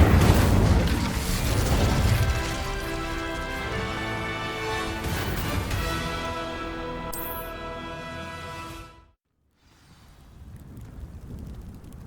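A fire spell blast in Hogwarts Legacy, a loud, roaring broadband burst layered over swelling music that cuts abruptly to near silence before quieter ambience returns.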